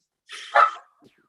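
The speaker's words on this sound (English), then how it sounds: "I will start with apologizing for my dog complaining." A dog gives a short whining bark, one strained yelp followed by a faint trailing whimper, close and alone in a quiet room.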